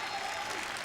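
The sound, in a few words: audience applause at bowling championship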